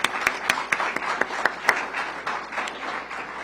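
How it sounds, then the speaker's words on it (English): An audience claps at a DC Public Schools strategic plan launch, a short burst of crisp applause that peaks in sharp claps, then thins and fades out within a few seconds. "Let's clap that up."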